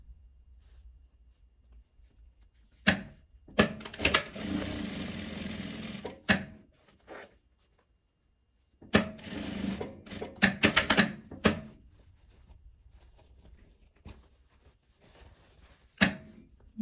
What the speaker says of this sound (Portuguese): E aqui começo rebatendo a costura.